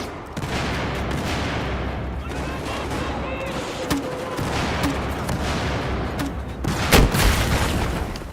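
Battlefield gameplay with a burst of rapid gunfire and booms, ending in a louder close explosion as the player blows himself up.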